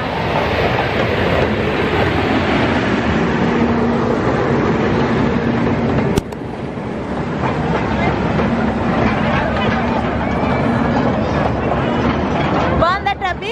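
A train rumbles steadily nearby with continuous rolling clatter, while people talk over the noise; a sharp rattle breaks in briefly midway.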